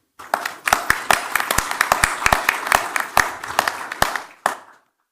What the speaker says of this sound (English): A huge round of applause for him, sir.